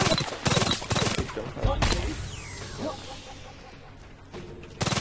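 Bursts of gunfire in a video game, several loud, close shots in rapid clusters with a lull between, while players talk over the action.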